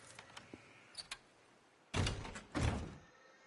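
A locked door being tried in the video game Days Gone: a few faint clicks and taps, then two loud rattling thunks about half a second apart as the door is pulled and holds, with no talk.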